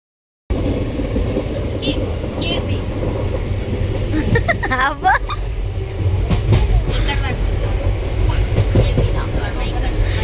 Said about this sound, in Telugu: ఇంకా ట్రైన్ ఎక్కేసినాం అందరం లైన్గా